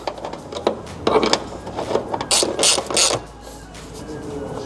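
A ratchet tightens a hood strut bracket bolt on a 1993-2001 Subaru Impreza or 1998-2002 Forester, giving close, rapid clicking bursts in several runs with brief pauses between them.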